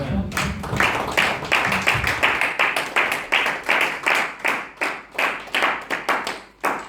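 A church congregation claps together in a steady, even rhythm, the sharp hand claps loud and close and repeating throughout.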